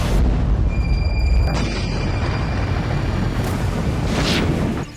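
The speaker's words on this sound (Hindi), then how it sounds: "रेजान ऑयल रिफाइनरी में फिर ड्रोन से धमाका हुआ है" A drone strike blast at the Ryazan oil refinery comes across as a deep, rumbling boom with a brief high whine, then a low roar that fades over a few seconds.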